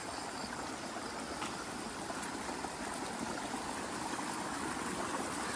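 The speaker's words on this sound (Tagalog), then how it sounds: "May tubig na naman yung bukal doon sa taas" Water from a spring rushes and gurgles steadily, a constant broadband flow with no pauses or voices, fairly close.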